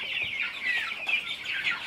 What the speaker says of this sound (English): There's all the chickens.